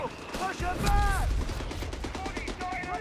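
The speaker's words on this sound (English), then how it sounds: "There's some well-placed bursts there from the Vickers K." Rapid machine-gun bursts from a Vickers K rattle in a Company of Heroes 3 battle, with several short volleys of fire and in-game voices shouting over the combat.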